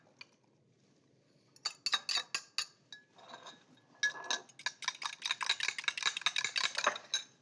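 A whisk beats oil and water in a bowl for a walnut pesto, making quick, bright metallic clinks in fast bursts after a quiet start, close and alone.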